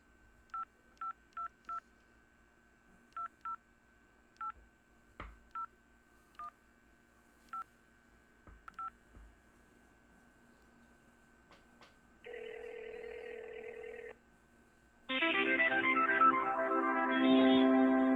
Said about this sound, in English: I have to make a phone call.